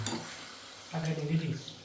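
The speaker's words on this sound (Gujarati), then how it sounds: "હવે ચાલુ અહીંયા તળવાનું" Papad frying in hot oil for a festive snack: a brief sizzle with the clink of stirring utensils against the pan, fairly close and loud.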